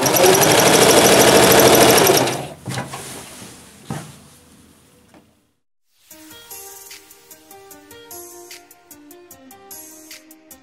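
A sewing machine stitching bias binding onto a wrap dress, a loud steady rapid whir for two seconds that winds down, then softer clicks and handling sounds under a quiet musical backdrop.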